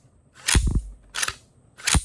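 Three sharp metallic snaps from a PSA Jakl pistol fitted with an AS Designs trip kit as the hammer falls on trigger reset, each crisp click spaced about two-thirds of a second apart, close and alone.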